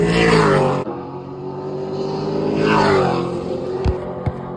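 A race car sweeps through the west turn of an oval track under hard throttle, its engine roaring loud and close with a rising then falling pitch as it passes. A second surge follows, with a couple of sharp knocks near the end.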